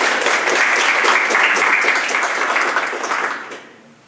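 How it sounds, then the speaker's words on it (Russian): An audience applauds a singer at a classical vocal ensemble session, a dense, steady wash of many hands clapping close and loud for about three seconds before fading quickly. "Похлопаем Салавату."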